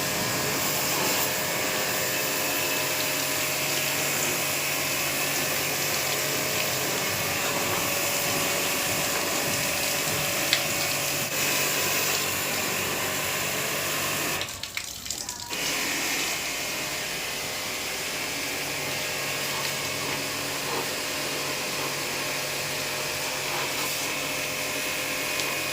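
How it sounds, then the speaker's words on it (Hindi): A jet pump sprays water to clean a dirty air conditioner, a loud, steady high-pressure hiss and motor whine that runs nearly unbroken, with a brief dip partway through and no talk. "अब इसमें भी जेट पंप का फवारा जैसे ही मारे एकदम गंदगी किस तरीके से कादो होकर के निकल रहा है देख सकते हैं आप।"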